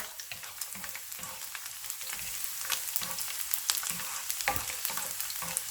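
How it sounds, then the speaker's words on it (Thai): Sliced garlic sizzles and crackles in hot oil in a pan, a steady close frying hiss dotted with pops and the soft scrape of stirring, with no talk. "ใส่กระเทียมหั่นแว่นนะคะ ลงมาผัดนะคะ ให้หอมนะคะ"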